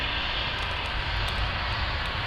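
A TAP Embraer jet coming out of mist at Manchester Airport gives a steady, broadband engine roar with a broad hiss that holds evenly throughout, with no voices.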